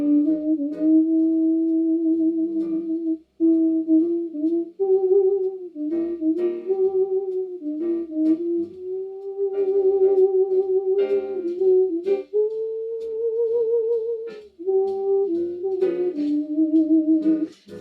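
A theremin carries the slow, gliding melody of a standard, with a sustained wavering tone that bends smoothly between notes and pauses briefly at phrase ends, played alone without talk.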